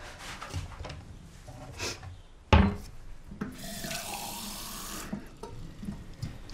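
A kitchen tap in a Czech film scene runs in a steady rush for a couple of seconds, after a sharp knock and some light clatter.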